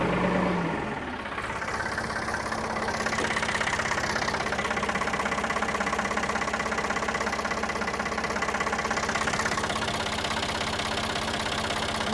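An old backhoe diesel engine cranks over and catches within the first second or two, then settles into a steady, loud, knocking idle that runs continuously with no talking.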